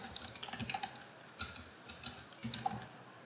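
A computer keyboard is typed on in short irregular bursts of quiet, close clicks, spaced by small pauses, with no voices.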